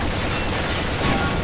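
Grenade blasts in a shooter video game, a rapid, loud wash of explosive bursts and crackling gunfire filling the whole moment with no pause.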